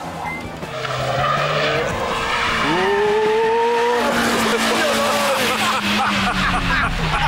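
A car drives fast on a track toward the hammerhead bend, its engine rising in pitch as it approaches, then a loud sustained roar with tire noise close by.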